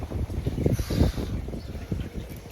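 Strong gusty wind buffeting the microphone outdoors beside a koi pond, loud rumbling bursts rising and falling continuously with no one talking.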